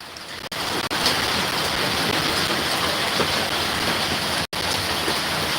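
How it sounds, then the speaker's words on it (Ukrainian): Torrential summer downpour, a dense, loud and unbroken hiss of heavy rain pounding surfaces close by, with only a couple of brief dropouts. "Прорвало небо. Чекали ми дощу, ну не такого."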